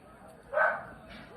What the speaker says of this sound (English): What the hell is my dog up to?